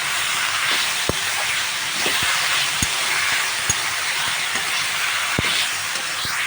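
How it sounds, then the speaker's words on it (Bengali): Onion and mixed vegetables for a chorchori fry in a pan with a steady, bright sizzling hiss, broken by a few sharp pops and taps, with no talk. "এদিকে চচ্চড়িটা ভাজা হচ্ছে"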